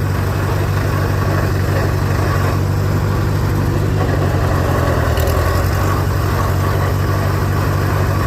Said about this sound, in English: That gearbox is noisy though without gear oil in it.